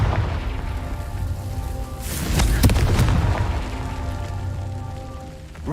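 A Confringo fire-blast spell in the Hogwarts Legacy video game goes off as one loud booming burst midway, with crackling debris settling afterward over a steady rain-like ambience and faint game music.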